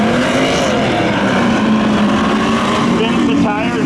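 Spectator drag race cars launch at Seekonk Speedway, engines roaring loudly and steadily with a pitch climbing under a talking voice.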